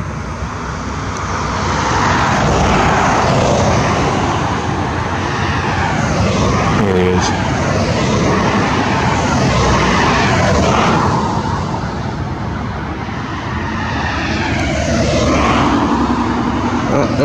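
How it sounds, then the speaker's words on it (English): A jet airliner roars overhead, a loud, steady broadband engine rumble that swells and eases as it passes. "now up over here, we have this jet coming through"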